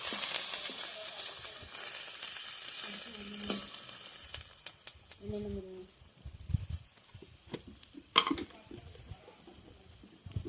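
Evening snacks fry in hot oil in a pan, giving a steady close sizzle with scraping stirs and light clinks of a utensil; a voice speaks briefly over the cooking.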